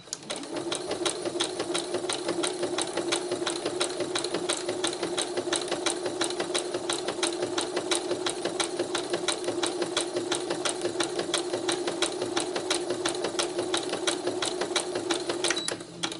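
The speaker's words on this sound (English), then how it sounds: "Then I'm going to sew around that." Sewing machine running a satin stitch around wire laid in textile, a fast, steady mechanical rattle held close and unbroken for the whole stretch, with no speech.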